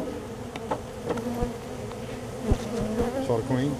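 Bees buzz steadily around a hive built in a bird house, a dense insect drone with individual wings whining past up close; a voice speaks briefly over the humming.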